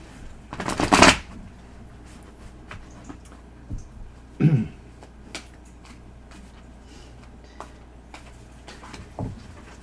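Tarot cards are shuffled close by in a sharp riffling burst, followed by a few softer shuffles and card taps amid quiet room tone.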